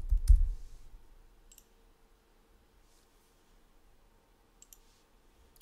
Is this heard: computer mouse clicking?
yes